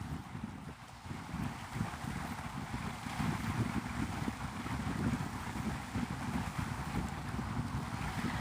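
Strong wind blowing on the water at Santa Rosa Sound near Navarre, Florida, a continuous heavy rush buffeting the microphone, loud and steady throughout with no talk.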